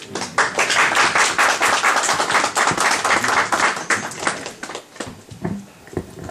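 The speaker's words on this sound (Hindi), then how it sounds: "जोरदार तालियां सत्कार जो साडी संस्कृति वास्ते।" An audience at a Christmas gathering breaks into energetic applause, with dense, rapid clapping close by that fades toward the end, leaving a few scattered claps.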